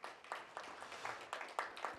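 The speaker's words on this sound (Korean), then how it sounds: "수고하셨다고 다시 한번 박수 한번 크게 쳐주십시오." Audience applause at a panel discussion or forum, faint and distant, with a steady patter of clapping that swells in rhythmic bursts over two seconds.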